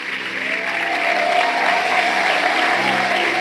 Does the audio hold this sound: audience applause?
yes